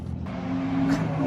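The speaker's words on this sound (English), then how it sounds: "just watching the grip cars go around" Grip cars, including small Corollas, lap a racing circuit at Higashi in Japan, engines droning steadily with a rising rev near the end, moderately close and continuous with no talking.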